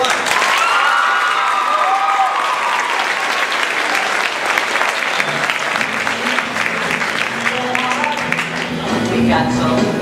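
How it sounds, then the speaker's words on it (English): A crowd applauds after a staged Hamlet scene, Act 1, Scene 1, with sustained clapping and some cheering, while voices talk over it in the second half. "let's get a round of applause for Act 1, Scene 1"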